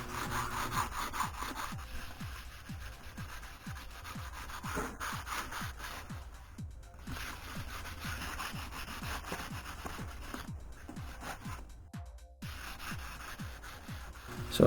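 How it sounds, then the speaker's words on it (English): Rhythmic scraping of sandpaper and sanding blocks over a 3D printed Darth Vader helmet, steady back-and-forth strokes close up and fairly quiet, with a few brief pauses. "just kind of sanding, get things smooth. I'm using different sandpaper and sanding blocks"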